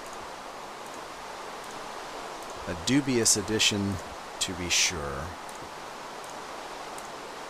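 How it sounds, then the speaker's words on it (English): Rain falling in a building video game, a dense steady hiss throughout, with someone speaking briefly over it midway. "Oh, here comes the rain."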